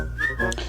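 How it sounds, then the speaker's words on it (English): A short rising whistle from a boy in the street, one clear tone that slides upward and holds briefly, close and fairly loud, with no speech. "boys whistled in the street"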